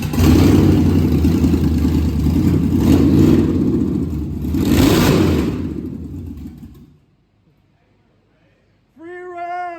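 A Tahoe engine free-revs with a loud, rough roar that swells twice over about seven seconds, then cuts to near silence before a short voice is heard at the end.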